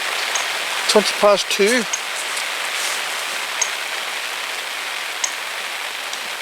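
Steady rain patters onto an umbrella over a fishing spot at Billingford fisheries, a constant close hiss with occasional sharper drop taps, while a brief spoken phrase cuts in early.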